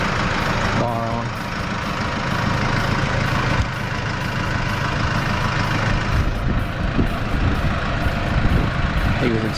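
A Case IH 75C tractor engine runs steadily close by with a low, continuous rumble. People talk over it now and then.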